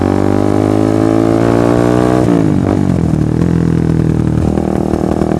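A loud motorcycle with an aftermarket Purbalingga exhaust runs continuously with a throaty note, revving up and dipping back toward idle with a rough, rumbling tone.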